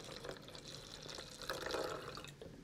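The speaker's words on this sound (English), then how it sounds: "as the water pours" Water poured into a container fitted with a capacitive liquid level sensor, a soft continuous trickling and splashing that swells a little midway, close but quiet.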